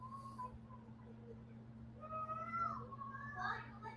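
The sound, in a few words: cats meowing in the background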